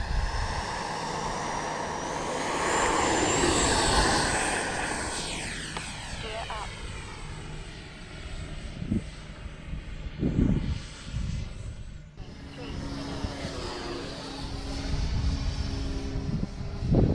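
An Arrows RC F-15 model jet on its maiden flight, its ducted-fan whine rising and sweeping overhead, loud then fading and returning, with wind noise and occasional handling bumps.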